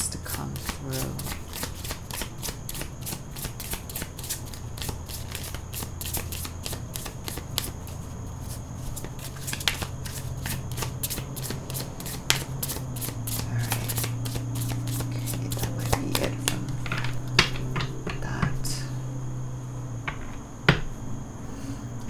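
Tarot cards are shuffled by hand, giving rapid crisp riffles and flicks in repeated bursts, close and dry, with low background hum and no talk.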